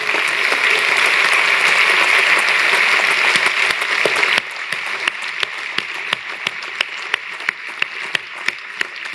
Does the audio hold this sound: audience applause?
yes